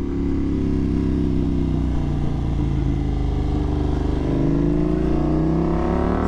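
A BMW F900 R cup race motorcycle engine roars loud and close on a track, holding a steady, rising drone as it pulls hard under acceleration, with no voices.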